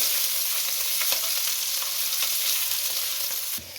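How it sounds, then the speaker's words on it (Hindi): Garlic ginger paste frying in hot oil with cumin, a steady close sizzle that fades slightly at the end. "लहसुन अदरक पेस्ट को थोड़ा सा इसमें फ्राई कर लें कि इसके कच्चेपन की स्मेल चली जाए"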